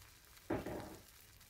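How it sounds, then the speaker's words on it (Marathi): A short sizzling burst as fasting kachoris fry in hot oil in a pan, a sudden bubbling hiss that gradually fades over a second. "थोडा रंग बदली होईस तोपर्यंत आपण कचोऱ्या एका बाजूने शिजू देणार आहोत।"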